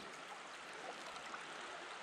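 Creek water flowing beside an old stone wall, a faint, steady, even rush of moving water with no voices over it.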